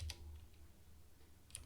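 CSS code being typed on a computer keyboard, with a few faint key clicks spread across a short, quiet moment and a low steady hum underneath.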